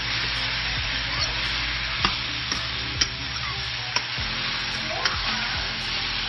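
Stirring a pot of breadfruit curry in coconut milk, with a steady simmering hiss and a few sharp spoon knocks against the pot about once a second.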